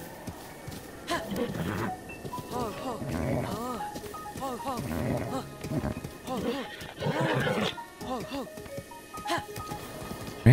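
A horse in Zelda: Breath of the Wild whinnies several times in shrill rising bursts over scattered clip-clop of hooves, close and fairly loud, while someone talks in between.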